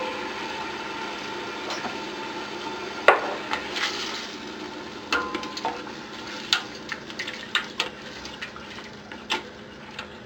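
Spoon stirring a pot of ginataang sitaw at kalabasa, coconut milk with string beans and squash, with soft scattered clinks and taps against the pot over a low simmering hiss.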